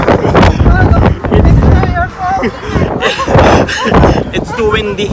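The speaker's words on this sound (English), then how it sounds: "It's too windy here in the Hoover Dam" Strong wind at the Hoover Dam buffets the microphone with loud, rumbling gusts that rise and fall while a person talks over it.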